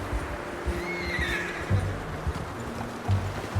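A horse in the video game Red Dead Redemption II gives a drawn-out whinny, heard over soft hoof clip-clops and low background sound.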